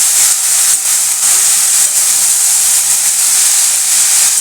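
Mixed vegetables sizzle steadily in a hot pan with a little salt while being stirred, a continuous bright hiss that stays fairly loud throughout with small fluctuations and no talking.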